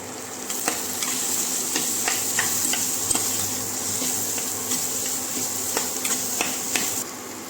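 Masala with turmeric and Maggi masala sizzling and being stirred in a pan for masala dosa filling, a steady close fry hiss broken by repeated sharp scrapes and taps of the spoon against the pan.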